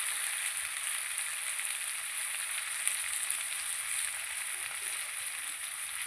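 Cut pumpkin pieces fry in oil in a pan with salt, making a steady, soft, even sizzle that carries on without break and without talk.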